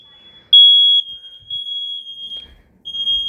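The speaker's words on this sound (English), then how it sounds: "Well, I'd rather test the smoke detectors again." A home smoke alarm under test gives a loud, shrill electronic tone close by, sounding in short bursts with a pause between them, and no voices.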